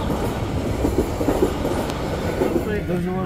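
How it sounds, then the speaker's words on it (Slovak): A train rolls past a railroad crossing in Slovakia, a steady close rumble with rhythmic wheel clatter and a faint squeal toward the end, while people talk nearby. "Here's the train."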